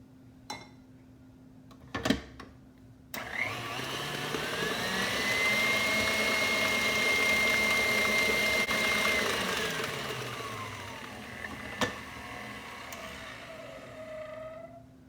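An electric mixer beats eggs and sugar for peanut butter blondies, a steady mid-pitched motor whir that swells for several seconds then winds down, with a few clinks against the bowl before and after.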